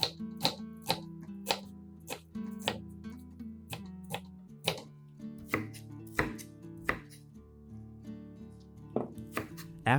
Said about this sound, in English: After chopping the onion finely,